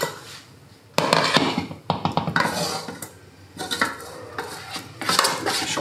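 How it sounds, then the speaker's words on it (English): Tofu brownie batter being mixed by hand with chocolate in a bowl, giving close, irregular bursts of sticky squelching and clattering against the dish, with short quieter gaps between. "what now I'm going to do is put the chocolate in there, and then normally the best thing is you use your hands and just mix it up"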